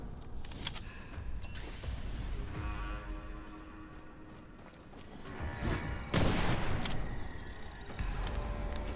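Heavy shotgun blasts in the dark fantasy shooter Witchfire, loud booming shots with crunchy impacts and clattering mechanisms, a big burst near the middle and another toward the end over dense game noise.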